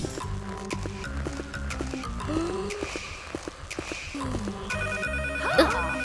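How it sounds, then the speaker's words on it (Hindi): A telephone rings in bursts over a busy cartoon-style music bed, with a sharp chirpy trill near the end. "शायद फोन बज रहा है।"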